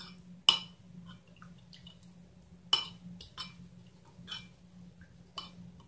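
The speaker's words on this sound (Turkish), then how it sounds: "2 yemek kaşığı kadar da su ekliyorum" Small clinks and drips as two tablespoons of water are spooned into thick grape molasses in a quiet kitchen, a few sharp taps of a spoon against a bowl spaced over a faint steady hum.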